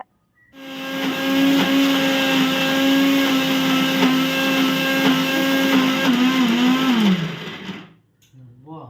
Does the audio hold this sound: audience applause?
no